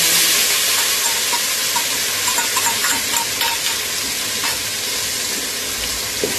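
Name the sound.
ginger, chili and garlic paste frying and being stirred in oil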